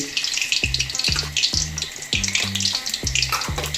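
Two cloves of garlic fry in hot oil for a Kerala-style chicken fry, giving a loud, steady, close sizzle. A rhythmic low thudding pattern runs under the crackle, and no one speaks.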